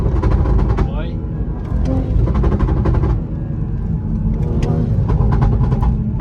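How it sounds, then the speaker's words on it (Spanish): A Toyota Supra MK5 with a CTS intake revs and lets off, producing turbo flutter chatter amid loud engine bursts, with someone talking over the car throughout. "hace el mentado turbo flatter."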